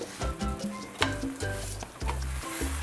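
Roti cooks on a hot pan with a steady sizzle, broken by light scraping and tapping sounds from nearby handling.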